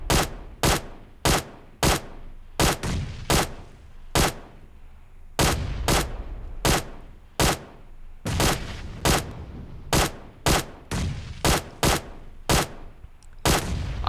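QBZ assault rifle fired in PUBG Mobile on single fire: sharp, loud individual shots in quick irregular pairs and clusters with short silent gaps, no voices.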